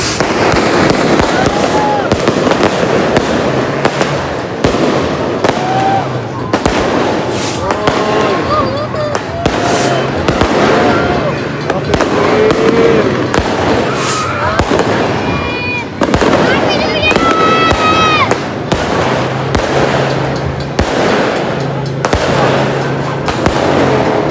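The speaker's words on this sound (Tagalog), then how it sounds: "sobrang lakas ang paputok dito." New Year's firecrackers and fireworks crackle and bang continuously, loud and dense, with occasional whistles, while people shout and talk through the barrage.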